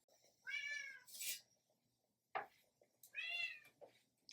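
Two cats meow loudly and close by, hoping for dry pasta, with two long drawn-out calls separated by pauses and short sharp rustles or knocks in between.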